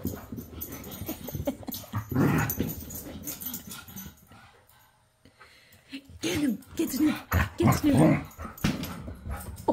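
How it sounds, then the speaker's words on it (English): Dogs play-fighting indoors growl, snarl and whimper in bursts, with a quiet lull in the middle and people talking and laughing close by. "This is like dog MMA."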